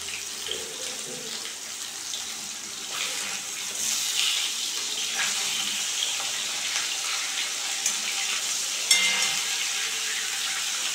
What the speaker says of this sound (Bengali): আমি 3 পিস করে ভেজে নেব